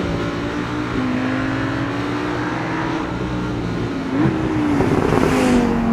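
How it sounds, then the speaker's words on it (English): A Lamborghini Huracan with its 7-speed dual clutch gearbox revs on a downshift, a steady engine drone that rises into a louder burst of revs near the end. "when you downshift in the new 7-speed dual clutch gearbox, you get a fantastic burst of revs"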